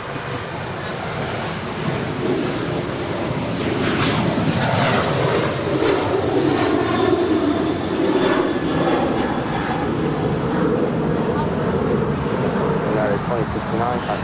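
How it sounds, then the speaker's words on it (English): United Airlines Boeing 737-900ER, eight years old, departing Los Angeles airport for Houston, its jet engine roar swelling and holding loud and near, with people talking over it. "That is United Airlines 2069 departing to Houston. It's an 8-year-old 737-900ER."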